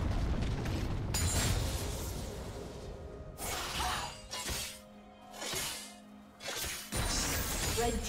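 A turret is destroyed in a League of Legends match, with loud shattering crashes and explosive bursts separated by whooshes and short lulls, set against busy game sound.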